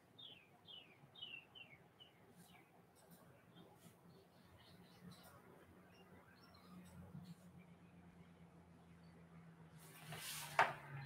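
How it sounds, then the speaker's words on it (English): Birds chirp faintly in the background in a quiet outdoor setting, with a short run of high tweets near the start and scattered soft calls after, ending in a brief louder noise. "So you can hear the birds singing quietly in the background."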